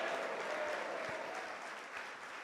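A church congregation applauds the Lord, a steady, fairly distant and soft roar of many hands clapping that holds evenly without pause.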